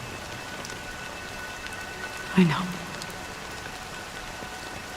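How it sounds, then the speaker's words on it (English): Rain falls steadily in Honkai: Star Rail, a continuous soft hiss throughout, while a voice briefly speaks over it partway through. "it's still raining."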